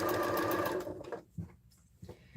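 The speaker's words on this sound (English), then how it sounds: "Just feed them through the machine." A sewing machine runs at speed stitching quilt pieces chained through one after another, a loud continuous whirr that stops abruptly, followed by quiet handling noises.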